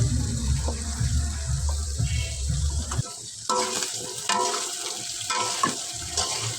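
Chicken and mixed vegetables stir-frying together in a pan for chicken vegetable noodles, a steady close sizzle with the scrape and clatter of stirring growing busier partway through, no voices.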